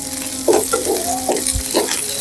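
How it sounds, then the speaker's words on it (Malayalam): Small onions and curry leaves fry in a pan for a Kottayam-style beef dish, a steady close sizzle broken by a few soft stirring scrapes, with no talking. "ചെറിയ ഉള്ളി ഒന്ന് റോസ്റ്റ് ചെയ്തെടുക്കാം"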